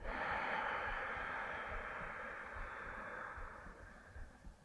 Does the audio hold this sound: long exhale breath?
yes